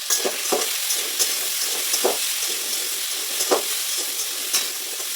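Potatoes frying in oil with salt and turmeric in a kadai give a steady, close sizzle, broken by several sharp scraping stirs at irregular intervals.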